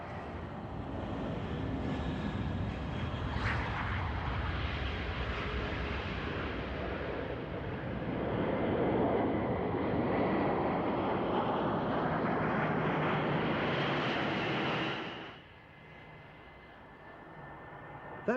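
A loud, steady roar of the Antonov An-225 Mriya's large turbofan engines spooling up at Farnborough builds and holds for a long stretch, then drops off abruptly near the end.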